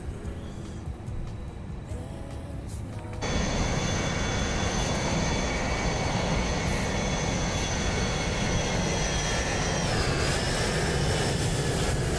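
Qantas Airbus A330 in Microsoft Flight Simulator 2020 taxiing into the gate, a steady loud jet engine whine and roar that swells after a few seconds and holds, with a slight pitch dip near the end.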